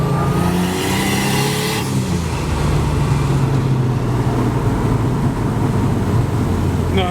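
A BMW E28 engine revs and pulls under acceleration, heard from inside the moving car on a rainy day, a loud continuous drone that rises and falls with the throttle throughout, with no talk.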